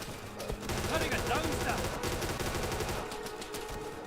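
Rapid gunfire rattles in a WWII sandbox video game, dense repeated bursts like machine-gun fire running through most of the stretch at moderate loudness, with voices mixed in underneath.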